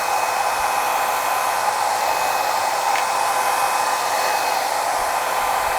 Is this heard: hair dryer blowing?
yes